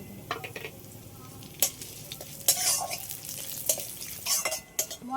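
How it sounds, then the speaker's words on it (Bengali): Whole spices, bay leaf, dried red chillies, cardamom, cloves, cinnamon, coriander, peppercorns and cumin, fry in oil in a pan, giving a faint steady sizzle broken by scraping stirs and sharp clinks of a utensil against metal. "তেজপাতা, গোটা শুকনো লঙ্কা, এলাচ, লবঙ্গ, দারচিনি, ধনে, গোলমরিচ, জিরে, এগুলো সব এই তেলের মধ্যে দিয়ে দেবো"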